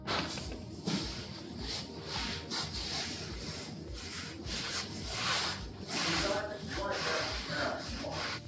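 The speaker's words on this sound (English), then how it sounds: "And then we're gonna trim that excess felt off of the edges." Scissors or a blade trim excess felt from the edges of a tufted rug's backing, making a continuous close rubbing, scraping texture with repeated strokes and no talk over it.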